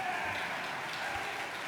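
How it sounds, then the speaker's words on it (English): Audience applause at the GDC Awards, a steady, even patter of many hands clapping throughout a short stretch, moderately loud with no clear break. "You can clap for that."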